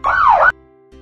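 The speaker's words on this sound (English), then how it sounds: "Ambulance." An ambulance siren gives a single loud wailing sweep, falling and rising in pitch for about half a second, then cuts off abruptly.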